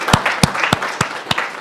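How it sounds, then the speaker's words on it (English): Audience applause for a panel at a college Constitution Day forum, a short burst of fairly loud clapping with distinct sharp claps standing out in a steady rhythm. "if we could give a round of applause to a fabulous panel"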